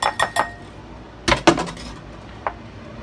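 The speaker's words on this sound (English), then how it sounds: "Final little stir." Metal utensil clinking against a pan while giving an egg mixture a final stir for a sweet potato frittata: a few quick sharp clinks, a brief cluster of louder taps mid-way, then one last light tick, close and clear with no talk.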